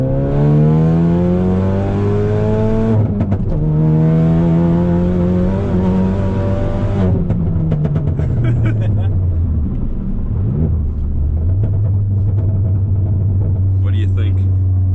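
A Ford Focus RS in track mode accelerates hard in second gear on a rough, bumpy road, its engine rising loud and close to a gear change, then easing off and settling, with a voice briefly heard over it.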